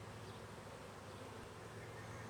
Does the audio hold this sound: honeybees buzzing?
yes